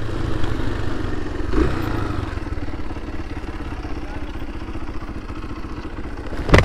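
A motorcycle engine runs steadily near an abandoned house, a close, even mid-pitched thrum with light clatter, ending in a sharp knock.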